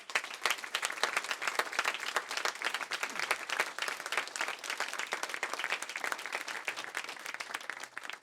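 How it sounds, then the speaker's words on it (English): Round of applause from a crowd at Mojo Books & Records in Tampa during a book tour stop, fairly quiet but dense, crisp clapping sustained evenly throughout. "Let's give them a round of applause."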